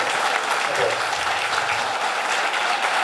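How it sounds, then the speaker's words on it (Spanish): Audience applause at an addiction conference, a dense continuous wash of many hands clapping steadily throughout, loud and close with no pauses. "Un aplauso para todos nosotros."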